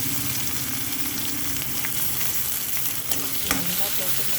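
Mustard seeds, urad dal and chana dal splutter in hot oil, a dense, steady crackling sizzle close by with scattered sharper pops and a faint stirring scrape, without any talking.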